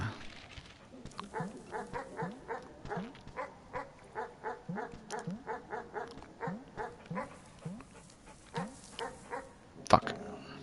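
A dog in the video game Animal Well barks in a long, regular series of sharp yips, repeated roughly twice a second, with a voice talking underneath and one louder burst near the end.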